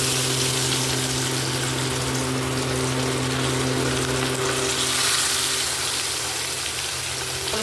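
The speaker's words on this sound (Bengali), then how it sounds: "আর মৌরালা মাছও ভাজা হচ্ছে" Small mourala fish frying in hot oil, giving a steady, dense sizzle with a low hum running underneath, loud and continuous throughout with no talking.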